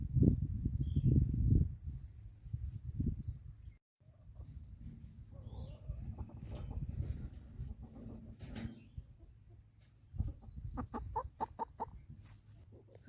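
Chickens cluck in a farmyard sheep area during manure cleanup, with repeated short calls in bursts, strongest toward the end, over a low rumble of outdoor background noise.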